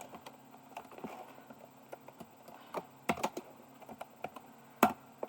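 Dart code is typed on a computer keyboard in quiet, irregular clicks and taps, close by, with a few louder key strikes scattered through.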